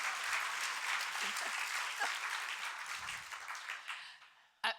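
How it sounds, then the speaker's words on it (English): An audience applauds at a National Press Club speech, with steady, dense clapping that fills the room, fades slightly near the end, and closes with one sharp, loud clap. "This is where you clap."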